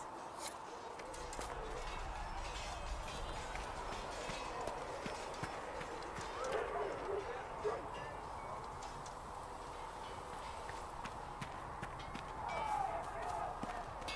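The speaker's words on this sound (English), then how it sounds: "We didn't all grow up with fancy noble horses, Arnsberg." Horse hooves clip-clop steadily as mounts are ridden in a fantasy video game, a faint continuous rhythmic patter under a broad hiss, with some voice-like sounds drifting in and out.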